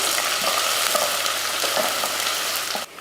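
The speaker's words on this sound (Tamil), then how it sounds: "ஒரு நூறு கிராம் அளவுக்கு சின்ன வெங்காயம் நல்லா பொன்னிறமாக வதக்கிக்கலாம்" About a hundred grams of shallots sautéing in hot oil with cinnamon, cloves and curry leaves for a Tamil mutton curry. A loud, dense hiss of sizzling runs with faint stirring taps, then cuts off abruptly near the end.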